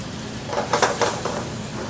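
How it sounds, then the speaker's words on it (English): Vegetables sauté in olive oil in a pan, giving a steady sizzle that swells in a few bursts as they are stirred, heard alone and up close. "I'm going to just saute up our vegetables real quick while that's reducing down"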